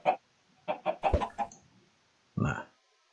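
A chicken in a video game clucks in short bursts, a quick run of several clucks followed by a pause and one final squawk, close and clear with no talk.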